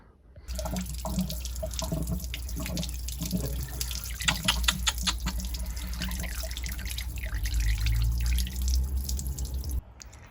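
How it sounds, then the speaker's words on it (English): Water from a leaking radiator on a classic Mini splashes and trickles steadily, a close, continuous liquid flow with dripping texture, ending abruptly. "investigations found out that the actual radiator's got a leak"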